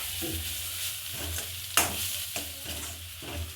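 Turmeric, cumin and garlic fry and are stirred in a pan in a home kitchen, making a steady close sizzle. A few scraping stirs cut through it, including one sharper clink near the middle. Nobody speaks.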